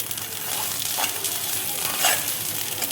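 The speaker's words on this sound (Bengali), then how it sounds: "এবার দেখো বাটাটা আমি তেলের মধ্যে দিয়ে দিচ্ছি।" Bottle gourd peel paste frying in oil with nigella seeds, a continuous close sizzle with a few brief stirring scrapes and pops over three seconds, with no voices.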